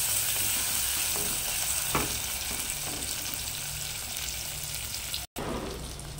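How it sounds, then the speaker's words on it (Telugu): Green chillies and onions fry in a pan for a raw banana pulusu, giving a steady soft sizzle with a few faint stirring knocks, continuous apart from a brief dropout near the end. "పచ్చిమిర్చి, ఉల్లిపాయలు రెండు వేసి 10 నిమిషాలు అది వేగనివ్వండి."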